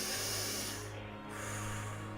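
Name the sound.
a breath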